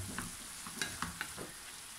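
Spices and mushrooms stirred in a frying pan, a steady low sizzle with a few distinct spoon scrapes and clicks against the pan, close and moderately quiet, no talking.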